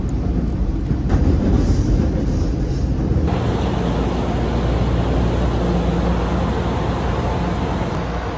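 A Chicago airport train rumbles along the rails with a steady low roar and faint rattling, continuous and fairly loud, with no talking.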